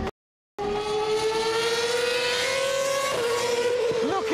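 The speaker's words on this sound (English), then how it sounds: "listening to an F1 car" A Formula 1 racing car engine screams at high revs after a short silence, a loud sustained tonal whine that shifts pitch midway as the car passes.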